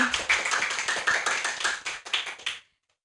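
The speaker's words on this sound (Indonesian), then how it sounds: "Beri tepuk tangan yang meriah." A short burst of applause welcomes a guest, alumna Nitya Laksmi, onto a school podcast, with close, quick claps that run steadily for about two and a half seconds and then stop abruptly into silence.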